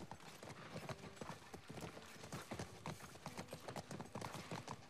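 Horse hooves clip-clop at a steady trot in the video game The Last of Us Part I, quiet and even, a continuous rhythmic patter with faint mechanical clicks and no talking.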